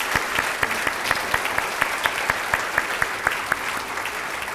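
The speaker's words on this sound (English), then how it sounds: "let us give you a round of applause, my friend" An audience at a school district's annual address applauds, moderately loud crowd clapping with a few sharp, evenly spaced claps standing out near the microphone.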